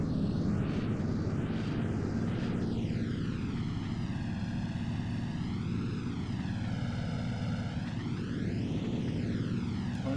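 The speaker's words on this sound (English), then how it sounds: "Flaps to take off and throttle up." A Junkers Ju-88 twin-engine bomber in the IL-2 Sturmovik flight game throttles up for takeoff, its propeller engines droning loud and steady with slowly wavering, pulsing pitch throughout.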